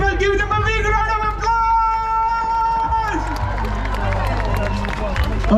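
Outdoor crowd at a Diwali festival in Trafalgar Square, London, breaking into applause and cheering for dancers after a drawn-out tonal call, with a loud voice over the noise.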